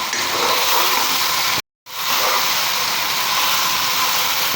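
Minced chicken keema with coriander and green chillies fries in a pan with a loud, constant sizzle that cuts out for a split second before carrying on, with no voices.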